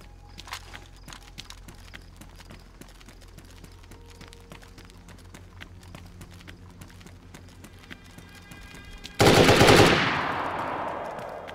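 Gunfire in the video game DayZ: a rapid burst of loud shots erupts near the end after quieter footsteps and movement, the final shot ringing out with a long, fading tail.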